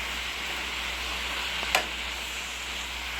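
Fried cabbage with a seasoning packet sizzles in a pan, a steady close hiss of frying with a single brief scrape or clink of stirring partway through.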